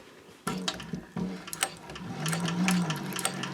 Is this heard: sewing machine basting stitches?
yes